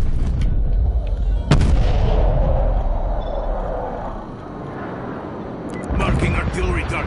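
Artillery fire in the Call of Duty video game: heavy booming blasts with a rolling low rumble, one sharp crack early on and another burst of shots near the end.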